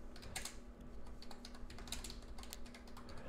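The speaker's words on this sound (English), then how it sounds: "I'm just going to type it in like this." Someone types on a computer keyboard with a steady patter of quiet keystrokes, close by and unbroken, and no voice is heard over it.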